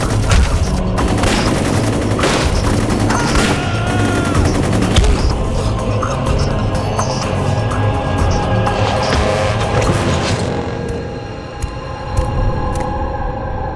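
X-Men 2: Wolverine's Revenge cutscene gunfire rings out as loud, dense shooting with crashes and booms over a busy action soundtrack, easing off toward the end.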